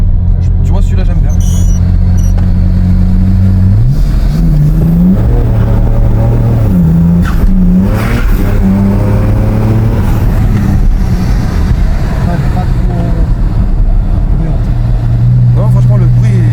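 A modified BMW 320d with an M57 diesel engine tuned to Stage 3, revving repeatedly with a deep, loud, wavering drone that rises and falls in pitch throughout, with people talking over it.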